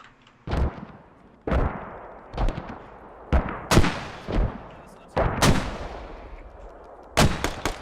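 Enemy mortar fire in a military video game on the Chora Valley map: about eight heavy, booming impacts land at irregular intervals, each a sharp loud blast that fades into a rumbling tail.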